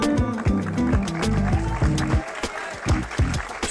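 Audience clapping at a college alumni reunion and spring festival prize announcement, loud and close, mixed with a rhythmic drumbeat and busy crowd noise throughout.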